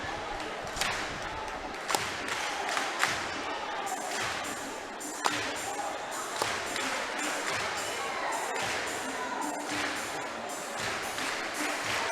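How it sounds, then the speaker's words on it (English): Crowd at a high school boys' basketball game in a gym: a steady murmur of spectators with scattered thumps and shouts, and a commentator's voice talking over it throughout. "Not a bad crowd on hand tonight."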